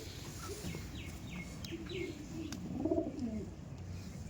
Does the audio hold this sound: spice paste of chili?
no